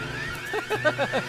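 An alarm sounds in the video game Empire of the Undergrowth, a warbling, siren-like series of rising electronic tones that grows into rhythmic pulses near the end.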